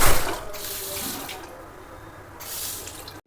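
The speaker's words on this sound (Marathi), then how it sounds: "टॉयलेटमध्ये बघा पाणी सेन्सर." A sensor-activated water tap runs in a public toilet, a loud close hiss of flowing water that eases midway and then surges again.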